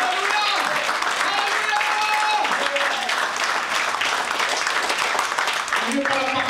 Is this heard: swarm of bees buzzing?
no